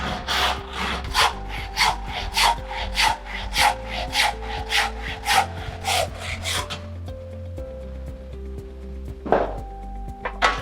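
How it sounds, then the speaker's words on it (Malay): Close hand saw rasping through wood for a Kelantan serunai in a steady back-and-forth rhythm of about a dozen strokes, then a pause with a lone scrape near the end. "kita potong guna gergaji tangan"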